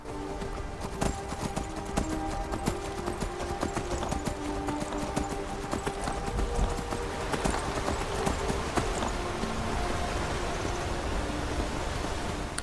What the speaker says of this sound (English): the ride to Riverwood on horseback is not going to take us that long